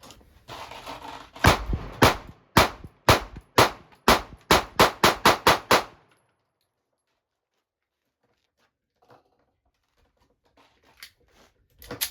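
Pistol shots from a Sig Sauer P365 during a round-count test, about ten sharp, loud reports fired in quick succession, then near silence with faint handling clicks toward the end.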